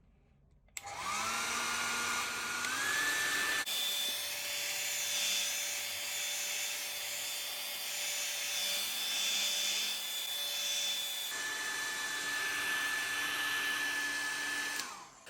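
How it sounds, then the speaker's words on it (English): A heat gun heating a Google Pixel 3 back panel gives a steady, loud blowing whir running continuously, its pitch shifting up partway through. "Use a heat gun or hair dryer to heat up the surface of the back panel."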